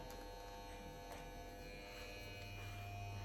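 Electric hair clippers trim a man's hair at home, guided over a comb used as a clipper foot, giving a quiet, constant close buzz with a low hum throughout.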